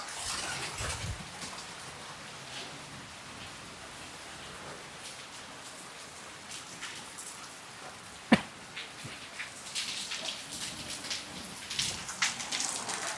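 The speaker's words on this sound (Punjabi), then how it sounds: "ਅਚਾਨਕ ਬੱਦਲਵਾਈ ਹੋ ਗਈ ਮੀਂਹ ਵੀ ਸਟਾਰਟ ਹੋ ਗਿਆ ਆ ਬਹੁਤ ਤੇਜ਼" Steady heavy rain falls throughout on a Punjab village, a dense hiss of drops on surfaces with one sharp loud crack near the middle; no voices.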